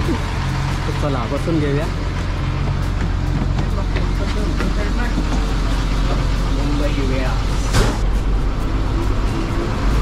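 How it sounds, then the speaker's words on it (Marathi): A Maharashtra state transport bus pulls out of Mumbai Central bus station, its engine rumbling loud and steady with passengers chatting over it and a brief horn-like burst near the end. "आपली बस निघालेली आहे मुंबई सेंटर बस स्थानकमधून"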